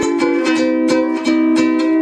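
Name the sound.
amplified electric ukulele playing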